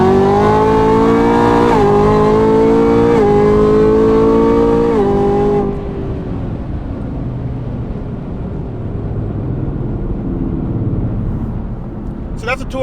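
A modified 2017-plus Chevrolet Camaro ZL1 with a Stage 4 build accelerates hard at full throttle, its engine wailing loud and rising through several quick gear changes before easing into a lower cruising drone.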